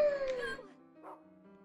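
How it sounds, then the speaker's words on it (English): Dog whimpering in the video game Rule of Rose, a couple of short, high whining cries that fade out, close and alone. "Stupid dog."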